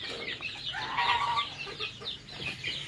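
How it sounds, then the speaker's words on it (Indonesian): Chickens cluck in a coop housing around a hundred birds, a short burst of overlapping clucks and squawks at moderate distance, fairly quiet, with no talking. "Hari ini saya memiliki kurang lebih 100 ekor ayam."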